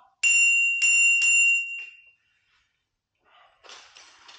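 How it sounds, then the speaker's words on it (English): A folding e-bike's handlebar bell rings three quick bright dings close up, followed by a pause and some softer clicking and rattling handling noises. "Comes with the bell."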